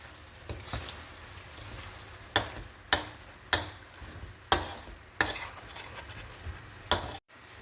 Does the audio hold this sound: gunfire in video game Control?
no